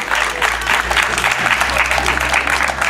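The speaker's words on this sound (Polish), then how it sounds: "jeszcze raz wielkie oklaski" A crowd at an outdoor reading-promotion happening in a train station claps steadily and loudly, with a low rumbling background hum underneath.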